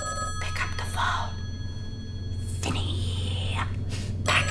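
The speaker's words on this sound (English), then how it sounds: "Pick up the phone." A telephone bell ringing in a horror film scene, two ring bursts separated by a pause over a low steady hum, with faint whispering nearby.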